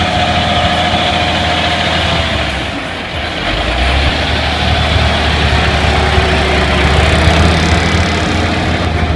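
A heavy truck engine pulls a two-axle trailer, loud and close, holding a steady low rumbling drone that briefly dips near the middle before surging back.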